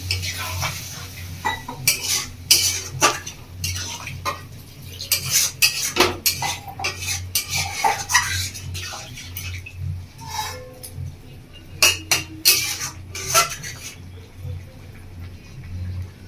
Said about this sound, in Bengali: একটা থালা নিয়েছি, ঢাকা দিয়ে দেবো।